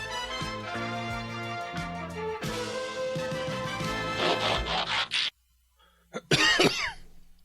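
A few sharp coughs and a throat clear come after music cuts off, separated by a brief silence.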